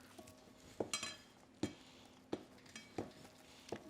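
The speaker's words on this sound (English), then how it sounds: "So I'm spooning this out with my silicone spatula." A silicone spatula scoops chopped liver with onions out of a container, producing soft irregular scrapes and light clinks against the dish at a quiet, close level.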